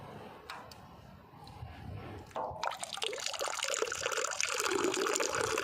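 A few faint drips give way to a steady stream of running water from a boiler that gushes continuously, close and fairly loud.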